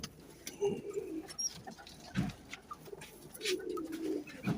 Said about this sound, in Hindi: कसूरी कबूतर है ये।